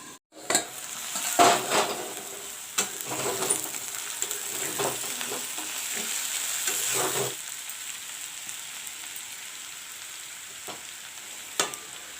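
Potatoes fry in a pan, a moderate sizzle with spatula scrapes and clinks against the metal during the first seven seconds, then the frying quiets to a faint hiss with one late clink.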